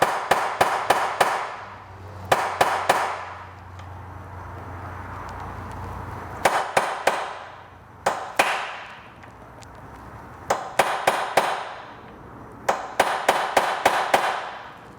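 Sharp metallic taps of a punch on rivets in the cover of an all-original 1978 Vespa P200E scooter, struck in quick bursts of three to five blows with short pauses between groups, close and loud.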